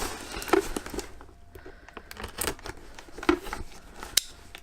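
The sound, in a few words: knife cutting open plastic packaging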